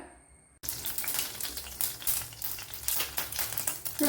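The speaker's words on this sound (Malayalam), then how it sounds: "1-2 ടേബിൾ സ്പൂൺ വെളിച്ചെണ്ണ ഒഴിച്ചു കൊടുത്ത് കടുക് പൊട്ടിയിട്ടുണ്ട്." After a brief quiet start, a burst of crackling, popping spatter as mustard seeds splutter in hot coconut oil fills the clip, dense and close with irregular pops.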